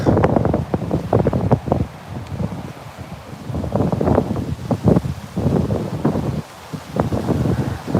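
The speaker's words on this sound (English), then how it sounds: "It is windy. Windy in the Everglades." Strong wind buffets the microphone continuously outdoors in the Big Cypress area of the Florida Everglades, with rustling gusts and roaring noise throughout; no voices.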